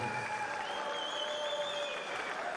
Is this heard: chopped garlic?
no